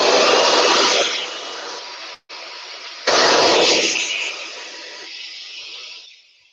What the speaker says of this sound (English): I've got my blow dryer set to medium heat and full strength